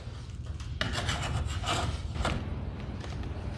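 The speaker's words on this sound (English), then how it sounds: "you just kind of just smoothly run your paint scraper along the side of it" A paint scraper rasps along the wooden side of a staircase coated with deglosser, a close, continuous scraping rub in a couple of strokes with no talk.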